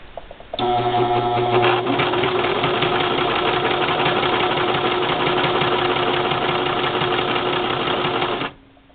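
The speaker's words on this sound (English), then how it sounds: "I have the tension at 2 on the Brother LX3014. And 4 layers of bulky fabric." A Brother LX3014 sewing machine stitches through four layers of bulky sweater fabric at its longest stitch length, a close, steady mechanical whirring chatter that starts abruptly, runs evenly for about eight seconds and then stops.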